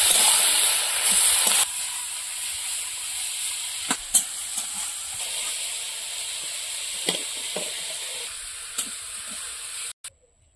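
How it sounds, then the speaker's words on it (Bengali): Fenugreek greens with salt and turmeric stir-fried in a pan, a soft steady sizzle with a few sharp clinks of stirring, quieter after the first couple of seconds and stopping near the end. "এবার শাকটা নাড়াচাড়া দিয়ে দিয়ে শাকটা ভাজা করে দেবো"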